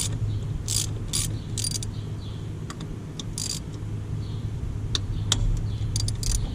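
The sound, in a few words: ratchet loosening hose clamps on a Cummins intake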